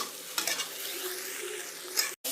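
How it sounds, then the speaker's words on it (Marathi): Egg bhurji being stirred in a frying pan, with a steady soft sizzle of frying food and scraping stir strokes throughout, close and moderately loud, then a brief cut of silence near the end. "मिक्स करत राहायचं आहे।"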